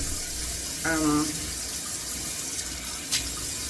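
Tap water runs steadily from a faucet to wet hair, a continuous close splashing hiss. A brief hum and a short spike sound over it, and no talk is heard.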